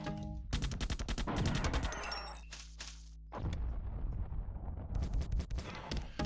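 Rapid gunfire from the old first-person shooter Marathon: Apotheosis, a loud string of sharp shots fired while emptying a clip, pausing briefly midway before another dense burst of shooting resumes.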